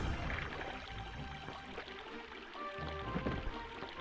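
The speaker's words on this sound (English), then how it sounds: "Strong water current here doesn't let me go that way." A strong water current in the video game Alundra rushes and pours steadily throughout, a continuous splashing flow layered with faint tonal game sounds.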